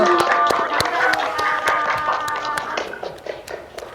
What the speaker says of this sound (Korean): 여러분 수고하셨던 의미로 다 같이 박수 한번 치겠습니다.